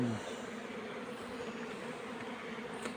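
Bees hum softly around a beehive, a faint, steady buzzing drone with no other sounds close by.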